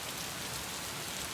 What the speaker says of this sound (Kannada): ರಾತ್ರಿಯಿಂದಲೇ ಎಡೆಬಿಡದೆ ಸುರಿತಾ ಇದೆ ಮಳೆ